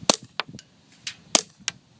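Several soft, sharp clicks from a High Standard HDM .22 LR pistol with integrated suppressor, spaced irregularly over two seconds, each a brief muffled pop with quiet gaps between.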